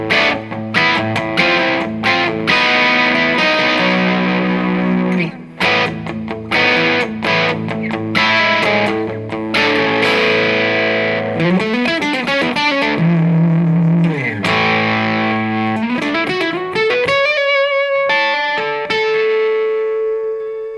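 Electric guitar through a Lounsberry Nigel distortion pedal with the gain turned up, giving a thick, saturated tone as sustained chords and single notes ring out with reverb, ending on a long held note, with no talk.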